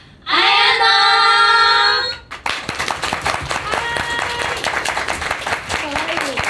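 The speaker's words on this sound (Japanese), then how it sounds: "皆さん拍手の準備をお願いします" A crowd at an idol birthday live concert breaks into brief, dense applause and clapping, which fades after a couple of seconds as people begin talking.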